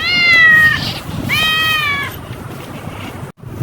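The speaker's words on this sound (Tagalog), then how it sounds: "Ang daming pusa dito." Two drawn-out cat meows, loud and close, one right after the other on a dark village road at night where many stray cats roam, followed by rustling and background noise.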